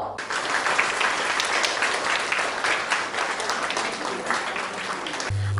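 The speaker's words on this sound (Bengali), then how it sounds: "ওনাদের জন্য একটা জোরে হাততালি হোক" An audience at a Bengali stage show claps loudly for performers who have just finished a Shiva devotional dance, producing a sustained, dense burst of applause that continues evenly throughout.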